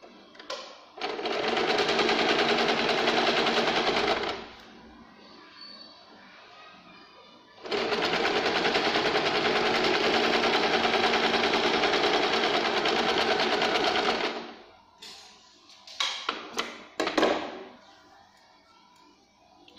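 A sewing machine runs basting stitches on a blouse sleeve in two long steady whirring stretches, close and loud, followed by a few brief clicking bursts and handling sounds, with no speech.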